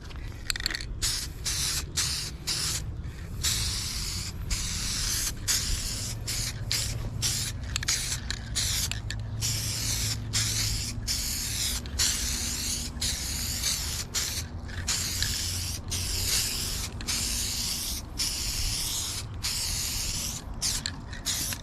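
A spray can lays a first coat of paint on car interior trim from a Honda CRX, steady close hissing bursts cut by many brief pauses, with no talking.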